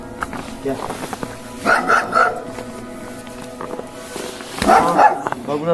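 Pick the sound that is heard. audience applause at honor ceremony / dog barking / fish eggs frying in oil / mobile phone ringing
dog barking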